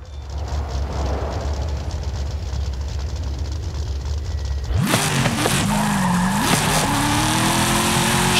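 A 2005 Vauxhall Monaro VXR with a 6-litre engine in the Forza Horizon 5 video game, first a steady low drone and then a loud rev with sharp rising and falling pitch sweeps, no talk.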